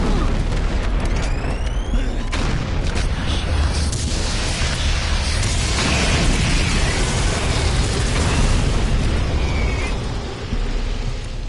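A grenade blast in the first-person shooter Doom 3: a dense, roaring explosion with heavy low rumble that fills the whole stretch at steady loudness, trailing off near the end.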